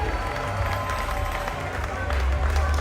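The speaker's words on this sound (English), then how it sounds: "let's give Chucky another round of applause" An Emancipation Day stage show crowd in Queen's Park Savannah, Trinidad, applauds the performer Chucky, a continuous, moderately distant wash of clapping and crowd noise over a low rumble throughout.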